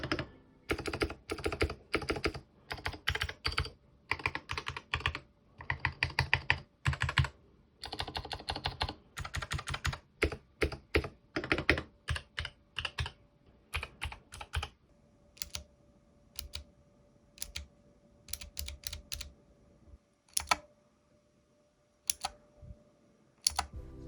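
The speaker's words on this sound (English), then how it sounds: "The top keyboard here is the Varmilo Yakimo featuring the EC Daisy V2 linear switches, which have a very light 35 gram actuation force" Fast typing on Varmilo mechanical keyboards, including a Yakimo fitted with light 35-gram EC Daisy V2 linear switches, makes dense clattering keystrokes that thin into sparse, spaced single presses later on.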